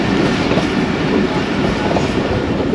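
Jaffar Express passenger train rolling into the Wazirabad Junction yard on a single line, a steady close rumble of wagons with faint clickety-clack running throughout without a break.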